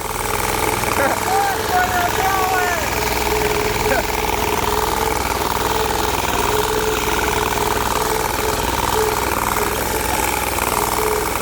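A Bolens 1600H garden tractor with a Briggs 20HP V-twin engine runs steadily at a loud, rough, throbbing idle with a knocking pulse, continuous and close throughout.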